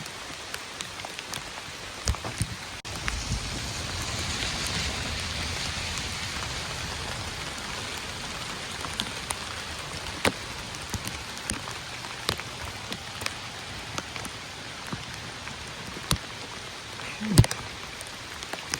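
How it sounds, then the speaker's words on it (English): Steady heavy rain pours down on the Appalachian Trail in a constant hiss, with scattered louder drips and taps landing nearby. "Sure is a steady rain, pretty heavy."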